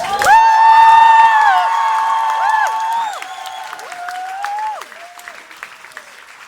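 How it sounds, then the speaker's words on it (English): A crowd at a live poetry show claps loudly with whoops and high cheers ringing out over it, the shouts tapering off as the applause gradually fades. "can we give a huge round of applause to Sven, who did the poem"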